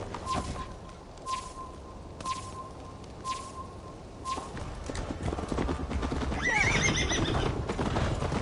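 A horse in Assassin's Creed Valhalla whinnies loudly and stamps with clopping hooves, with repeated sharp hoof strikes early on before a long, drawn-out neigh rises over a busy game soundscape with faint bird calls.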